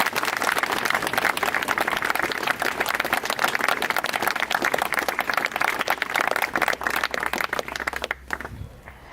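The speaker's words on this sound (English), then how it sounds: "let's have a round of applause for everyone" Wedding guests at a marriage ceremony break into sustained, dense applause, many hands clapping steadily and loudly for about eight seconds before the sound tapers off at the end.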